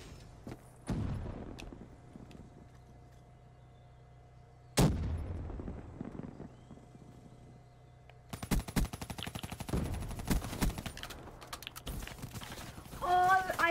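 Gunfire from a Black Ops 3 multiplayer match: a sharp burst near the start, another loud crack around five seconds, then a long stretch of rapid automatic fire with dense repeated shots toward the end.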